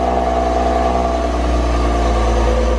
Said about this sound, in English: my mom got to start the engine